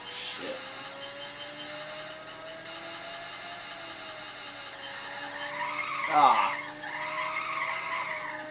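A car drifts in the PlayStation racing game Ridge Racer, its steady engine drone overlaid by a rising tire squeal and skid that peaks briefly near the end.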